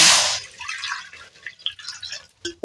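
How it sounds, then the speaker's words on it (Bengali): Water pours into a kadai for cooking ash gourd, starting with a loud close splash and then turning into softer irregular drips and trickles that fade out, with no talking. "এবারে কড়ায় দিয়ে দেব জল"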